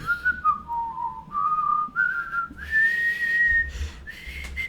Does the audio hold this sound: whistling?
yes